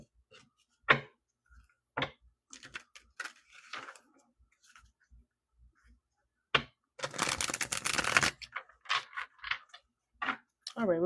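Scattered crisp clicks and taps of tarot cards handled, then a dense riffling burst of shuffling, with a few quiet spoken words in between.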